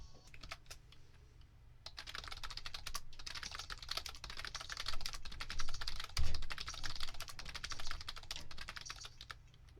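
Rapid typing on a computer keyboard clatters close and continuous, with dense runs of key taps that thicken and quicken midway before easing slightly toward the end, and no voices.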